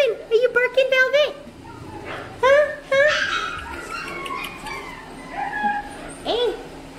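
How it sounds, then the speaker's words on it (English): Young puppies close by give a run of high yips and whimpers, with squeaky whines recurring throughout while a person talks and chuckles softly among them. "Are you barking, Velvet?"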